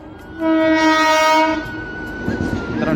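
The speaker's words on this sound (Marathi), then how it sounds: "काही क्षणातच आता आगमन होते मित्रांनो रेल्वेचं" A train horn blares a long sustained chord, then fades as the rumble and clatter of rolling rail cars builds.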